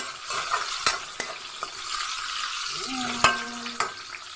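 Kalodi being stirred in a pan with garlic, onion and tomato, a steady sizzle with scraping utensil strokes and occasional clinks against the pan, close and moderately loud.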